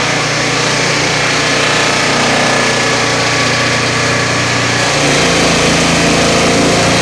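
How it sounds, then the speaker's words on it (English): A Turbosawmill engine runs loud and steady, close by, while cutting knotty pine, with a constant droning roar that shifts slightly in pitch partway through as the load changes. "Just got to keep those RPMs up and slow down when the knots are."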